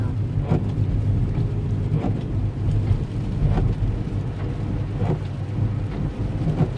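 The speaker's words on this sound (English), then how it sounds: "It's been raining all day." Steady rain hisses continuously, with faint low rumbles and occasional soft taps, no voices.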